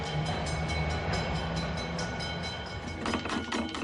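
Historic tram 218 from Zaragoza runs along the rails with a continuous rumbling, clattering hum and rhythmic wheel knocks, a brighter screeching burst near the end, close and loud with no talk.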